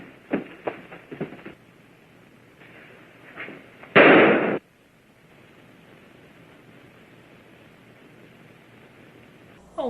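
A single sharp gunshot crack from the film Reefer Madness, a loud brief burst following a few faint knocks and quiet background, then near silence.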